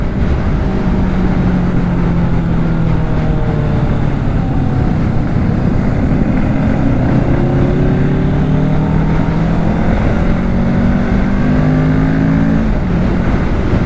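A 2024 Kawasaki Ninja 650 motorcycle accelerates continuously, its engine note rising through gears with steady loud drone and heavy wind noise over the whole stretch.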